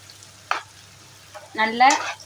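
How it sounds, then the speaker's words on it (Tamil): Small onions sauté in a pan for mutton pepper fry. A short, sharp stir comes first, then a longer, louder scraping stir rises over a faint sizzle. "நல்லா வந்து வெங்காயம் வந்து நல்லா ப்ரௌன் கலரில் நல்லா வதங்கிடணும்."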